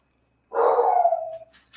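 A dog gives one long drawn-out bark or howl that slides down in pitch and trails off, loud and alone, followed by a faint rustle.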